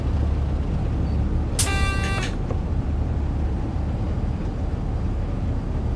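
A Class 171 diesel train in Train Sim World 6 on the East Coastway runs with a steady, low turbo exhaust drone, broken once partway through by a short tonal horn-like blast.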